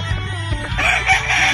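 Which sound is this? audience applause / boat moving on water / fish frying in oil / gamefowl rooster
gamefowl rooster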